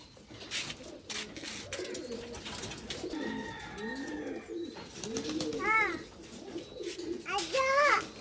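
High flyer pigeons coo in repeated low, rolling calls, close by, with children's voices chattering and higher chirps mixed in.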